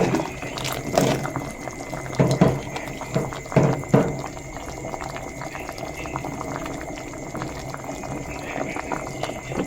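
Pork and rattan shoot curry bubbling in a pot, a steady close simmering hiss with several louder pops and gurgling bursts early on, then settling into continuous boiling.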